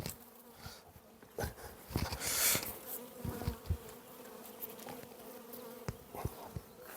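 Honeybees buzz close by at an open hive in a steady droning hum, with individual bees swelling louder as they pass.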